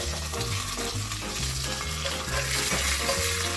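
Steak fat sizzles loudly and steadily as a porterhouse sears in a hot pan, a dense continuous frying hiss with occasional stirring scrapes and no talking.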